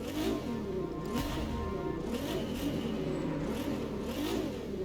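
A Jaguar in a driving video game revs with a steady mid-pitched engine drone that rises and falls in pitch, under a few brief clatters, with no talking.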